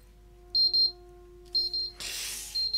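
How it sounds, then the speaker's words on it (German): Bursts of high, rapid electronic beeping from a timer alarm, repeating in short triple groups with a pause between, then joined by a rushing noise. "Ja, der Timer ist abgelaufen."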